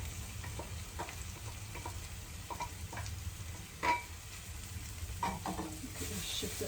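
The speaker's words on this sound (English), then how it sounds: "I wanted to show you how nicely the okra is frying up" Okra fries in a pan with chopped garlic and cherry peppers, a soft steady sizzle with scattered small pops and an occasional utensil tap, close and quiet with no talk.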